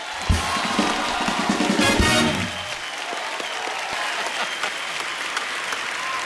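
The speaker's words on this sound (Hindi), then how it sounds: "एक बार रणवीर सिंह के लिए जोरदार तालियां हो जाए" A studio audience on The Kapil Sharma Show gives loud applause for Ranveer Singh, with some cheering mixed in. It is strongest for the first couple of seconds and then settles into lighter, steady clapping.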